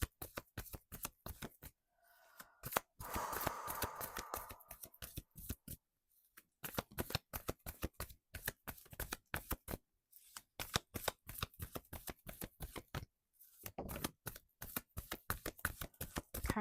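Wisdom of the Oracle cards that feel stiff being shuffled by hand, close and crisp, in repeated rapid riffling bursts separated by short pauses.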